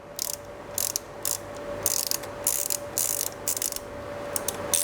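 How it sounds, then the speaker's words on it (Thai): A ratchet tool turns out two nuts on a spotlight charging light assembly, giving bursts of rapid metallic clicking separated by short pauses, close and fairly loud over a steady background hum. "ต้องถอด ชุดชุดไฟชาร์จนะครับ ตรงนี้ที่มีน็อตสองตัวนะครับ1 2ออกมานะครับ"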